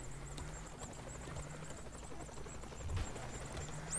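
A helicopter in the Saints Row The Third video game produces a steady, broad rotor roar that fills the scene continuously at moderate volume.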